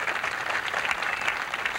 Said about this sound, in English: Smiling, getting a nice round of applause.